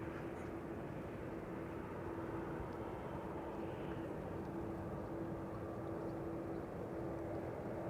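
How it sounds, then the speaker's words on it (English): A Singapore Airlines Airbus A350 taxis toward runway 18 Left at Amsterdam Schiphol Airport, producing a steady, faint engine drone with an even hum throughout and no other clear sounds. "Singapore A350 to Singapore flight 323 is making its way to the threshold of 18 left"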